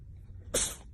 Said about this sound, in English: Sneeze it out.